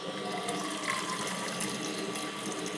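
Half a litre of broth poured into a pot for instant beef noodle soup, a steady, continuous splashing and gurgling stream of liquid at moderate level, with no talk.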